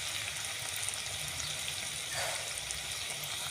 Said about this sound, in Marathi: आपली कोबी मंचुरियन छान छान खरपूस भाजून घ्यायचे बघा किती छान आपण तेल तापले